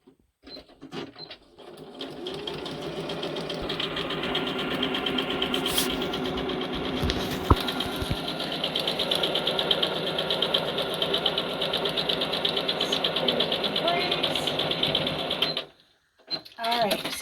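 A sewing machine stitching embroidery on a fast frame runs in a fast, steady mechanical chatter for most of the span, stopping briefly near the end before restarting, with a voice heard faintly at times.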